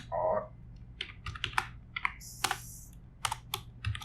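Someone types an SQL query on a computer keyboard, a close run of quick, irregular key clicks in short bursts with brief gaps, and no speech over the tapping.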